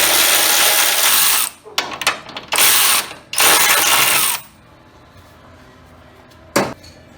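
Ratcheting tool clicks in several quick bursts as a suspension bushing is screwed back out on a small-body AMC Gremlin or Hornet front suspension, then stops, with one short final burst after a pause.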